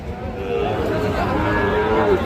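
Sahiwal cattle moo repeatedly, loud and close, over a busy murmur of a crowd at an outdoor livestock market in Ghoraghat, Dinajpur.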